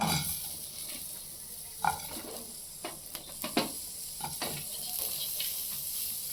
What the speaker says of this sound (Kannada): ನೆಕ್ಸ್ಟು ನಾವು ಇವಾಗ ಈರುಳ್ಳಿ ಹಾಕ್ಕೊಳ್ಳೋಣ